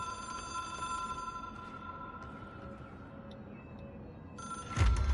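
An old telephone ringing in the video game Control, a steady electronic bell tone repeating over a low ambient hum, ending in a sudden louder thump.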